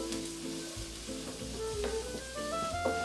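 Vegetables sauté in hot oil with turmeric, Kashmiri red chilli powder and coriander powder for baingan bharta, a soft continuous sizzle with occasional stirring scrapes of a utensil in the pan, fairly quiet and steady, no voices.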